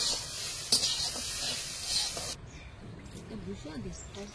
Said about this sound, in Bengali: বেগুনটা একদম দারুণ ভাজা হয়ে গেছে, এবার ঢেলে নেব।